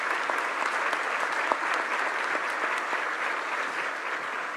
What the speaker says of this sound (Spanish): para quien les pido un aplauso muy especial